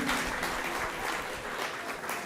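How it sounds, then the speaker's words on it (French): Audience members at an evening event in Gatineau applaud the musicians, a dense, steady wash of clapping from a sizable crowd filling the room. "Vous vouliez applaudir les musiciens, hein?"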